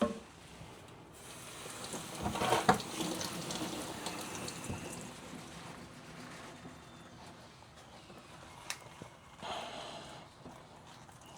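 Spinach greens rinsed under running tap water in a sink, a steady close water stream with rustling leaves and occasional clatter, no voices.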